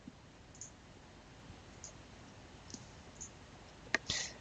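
A computer mouse clicks on a hosting dashboard link, a few faint clicks spaced through quiet room noise and a sharper, nearer click near the end, with no talking.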